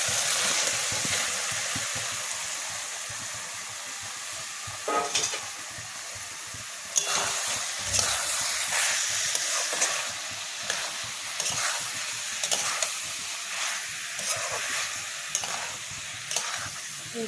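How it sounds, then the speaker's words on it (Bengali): Marinated soya chunks are stir-fried with spices, a loud sizzle broken by regular scraping and clanking stirring strokes in the pan. "এই যে সয়াবিনটা মেখে রেখেছিলাম এই যে সয়াবিনটা দিয়ে দিই"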